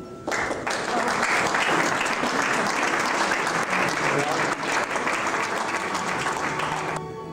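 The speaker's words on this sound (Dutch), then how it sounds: "En het applaus is voor jou." Sustained, dense applause from a large audience at a book presentation event, a steady roar of clapping that holds evenly for several seconds before cutting off.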